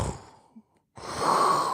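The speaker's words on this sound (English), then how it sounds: "the heavy breathing of some large, slumbering beast" Heavy, slow breathing of a large slumbering beast in a cave chamber, a long airy exhale swelling and fading, then a short pause and a louder rush of breath, close and alone.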